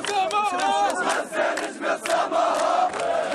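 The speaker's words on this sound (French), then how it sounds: "Des dizaines de Palestiniens qui applaudissent et chantent en guise de célébration." Dozens of Palestinians celebrate as a dense crowd, their voices chanting and shouting together in a loud, continuous roar, with clapping mixed into the steady swell.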